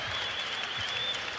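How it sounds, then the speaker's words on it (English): Basketball arena crowd at Memorial Gym applauding and cheering the Vanderbilt Commodores, a broad continuous roar of clapping that stays steady and full for a brief moment. "Crowd here at Memorial Jam rises up to salute the Commodores."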